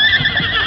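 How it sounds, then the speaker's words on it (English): A horse neighs loudly and close over a steady bed of noise, with faint hoof clatter as horses race over the stone floor of a canyon at night. "They wouldn't race their horses like that on the stone floor of a canyon, especially in the dark."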